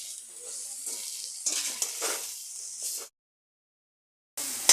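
Potatoes go into a frying spice paste for a Bengali fish curry, giving a loud close sizzle and hiss with stirring, cut off abruptly into silence before the sizzle returns.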